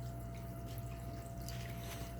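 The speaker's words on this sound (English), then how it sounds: "my ATO is going crazy because I just took that much water volume out" Water trickling and dripping steadily from a reef aquarium's auto top-off as it refills a tank after a large volume was removed, a constant close wash with a faint hum underneath.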